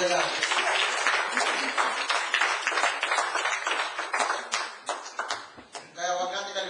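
Church congregation clapping in a rapid, continuous burst of many hands, loud and close, as the praise moment builds; a voice speaks over the clapping near the end.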